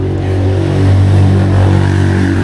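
A motorcycle engine revs loudly and steadily up close, its low harmonic drone rising and falling slightly over a couple of seconds with no talk.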